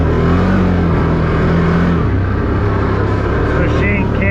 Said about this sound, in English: This machine, Can-Am, just eats it with its low end torque.